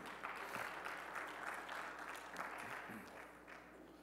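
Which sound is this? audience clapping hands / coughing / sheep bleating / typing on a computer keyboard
audience clapping hands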